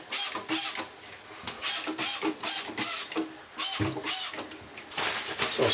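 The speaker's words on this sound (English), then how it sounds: "I've put it in a spray bottle to make it easy" A hand spray bottle sprays methylated spirits onto a silicone shower tray, giving a series of short, sharp hissing squirts in a steady rhythm, up close and clear with no talking.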